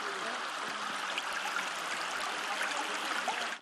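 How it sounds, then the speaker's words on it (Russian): Raw sewage runs down a town street in Cherkasy region as a continuous broadband rushing and trickling of water, steady and fairly close, with faint gurgles and no talk. "зловонная река размывает улицу, на которой стоит ее дом"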